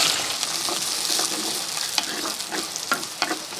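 Shallots, garlic and onion sizzle and fry in a clay pot, a steady close crackle broken by several sharp scraping stirs toward the end, with no talking.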